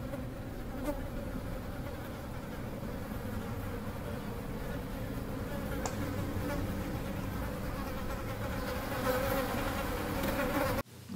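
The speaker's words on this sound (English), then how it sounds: "insect-like buzzing that preludes the arrival of beings that look like people, right? It's like a really creepy buzz sound." A creepy insect-like buzzing drones continuously from a horror film soundtrack, a dense, loud, unbroken hum like a swarm of flies, rising slightly before cutting off abruptly at the end.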